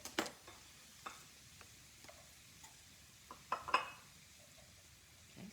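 Carrots, peppers and broccoli cooking in a skillet, a soft low sizzle with scattered light clicks and taps of a utensil against the pan, fairly quiet and steady.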